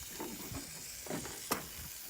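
Slabs of pork belly laid onto a hot smoker, a faint hiss and brief sizzling bursts as the meat hits the grate, quiet and close.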